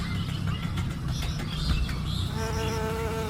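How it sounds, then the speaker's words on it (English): Bees buzzing as they gather nectar among flowers: a close, continuous insect drone that settles into a clearer, steadier hum near the end. "As they collect sweet nectar, pollen sticks to their tiny bodies and gets carried to other flowers."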